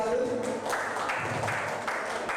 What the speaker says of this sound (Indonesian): Tepuk tangan untuk Bapak dan Ibu sekali lagi